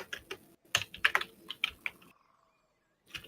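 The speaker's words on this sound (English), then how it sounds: "I hear you typing." Rapid keystrokes clatter on a computer keyboard in an irregular burst, close and clear, then a brief pause before typing resumes.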